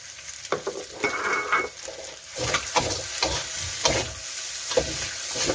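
Fried rice with onion being stir-fried in a pan for crispy pork fried rice, with a loud sizzle broken by repeated scraping stirs in an uneven rhythm, close up with no talking.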